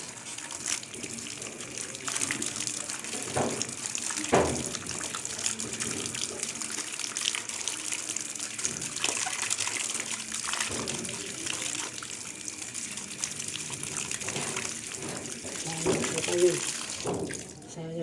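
Wild purple yam (ube) gets a third rinse under running water, a continuous gushing splash from a tap that keeps on with small knocks and clatters of handling, while a voice talks in the background.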